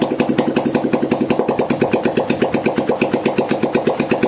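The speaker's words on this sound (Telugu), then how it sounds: "ఇప్పుడు బండి స్టార్ట్ చేసాము." A motorcycle engine idles steadily after starting, with a loud, close, rhythmic thumping pulse that stays even throughout.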